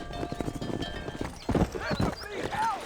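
Horse hooves clip-clopping in a Western ranch setting of the Red Dead Redemption video game, a steady trotting rhythm close by with a horse whinnying partway through and game voices speaking over it.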